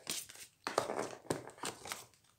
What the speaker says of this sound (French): On va continuer à déballer ce qu'il y a là-dedans.